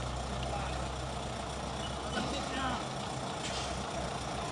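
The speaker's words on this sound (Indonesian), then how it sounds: "Dump truck, kesulitan menarik truk kanter." A dump truck's engine labors and rumbles while trying to tow a Canter truck, a strained steady drone under people talking nearby.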